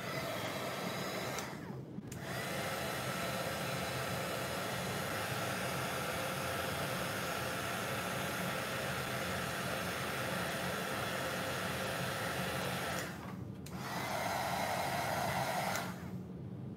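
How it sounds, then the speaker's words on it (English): A crafting heat tool blows hot air to heat set embossing on a butterfly spinner card. It gives a loud, steady whooshing hum that cuts out briefly twice and then resumes. "I'm gonna heat set with my heat tool here"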